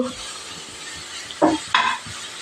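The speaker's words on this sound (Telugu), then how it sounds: "సొరకాయ ముక్కల్ని దాంట్లో వేసుకోవాలి. మేము నాన్ స్టిక్ ప్యాన్లో వేస్తున్నాము" Bottle gourd pieces drop into a non-stick pan with ghee for a sweet kheer, making two short bursts of sizzle and clatter over a quiet, low background hiss.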